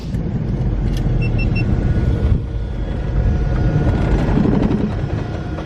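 A Beechcraft Bonanza F33A rolls along after landing at Glacier Airport in Montana, a loud, steady engine and road rumble heard from inside the cabin.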